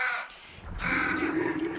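In the game Hunt: Showdown, a flock of disturbed crows gives a loud run of raspy caws, a brief call then a longer overlapping burst, near and prominent.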